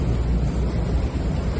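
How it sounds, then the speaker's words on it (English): Gale wind off a cape in the Sea of Japan, buffeting a microphone aboard the FPB 70 powerboat, with a dense low rumble and steady roar blended with sea noise. "And the wind tends to lift around this cape here."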